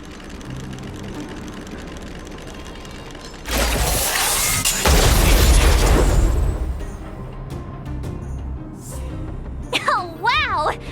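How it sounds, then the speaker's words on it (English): A loud explosion booms in the Honkai: Star Rail video game amid battle effects and background music, a broad blast of a few seconds followed by lighter chimes and effects. "We wiped them all out in a single explosion!"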